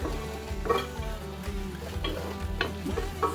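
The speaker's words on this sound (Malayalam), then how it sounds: "ഒന്ന് നന്നായി ഇളക്കി ഒന്നുകൂടെ അടച്ചു വെച്ച്" Aviyal vegetables are stirred in a pot with a spoon, giving repeated scraping and clinking strokes over a low simmering sizzle, close and fairly even in rhythm.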